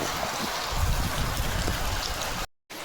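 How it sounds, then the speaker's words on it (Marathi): A stream beside a house in the Konkan countryside runs swollen under heavy monsoon rain, making a steady, close rushing and pattering wash that cuts out briefly near the end. "हा आमच्या घराच्या बाजूचा ओढा बघू शकता कसा वाहत आहे."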